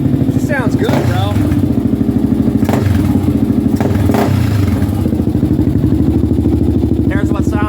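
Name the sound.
Honda 400EX ATV engine revving with stock header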